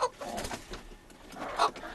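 Soft clucks and low murmuring calls from silkie hens, including a white silkie, inside a chicken pen, faint and intermittent with a couple of slightly louder notes.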